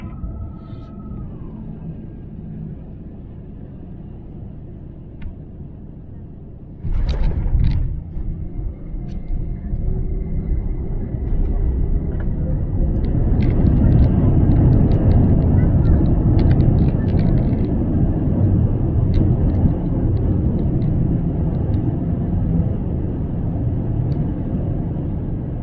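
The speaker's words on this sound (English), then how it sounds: "our aircraft will be landing shortly" Cabin noise aboard a China Southern Airlines Airbus A350-900 landing at Guangzhou: a steady low engine and airflow rumble that jumps louder with a thump partway through, then stays broad and heavy with faint chimes above.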